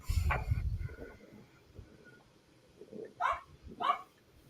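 A dog gives a few barks and yips at moderate distance indoors, starting with a low rumbling bark followed by two sharper yelps near the end, with quiet room noise in between.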